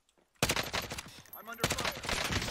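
Gunfire in the video game Warzone: dense, loud bursts of rapid automatic shots that start abruptly and return after a short lull, with faint voice chat in the background.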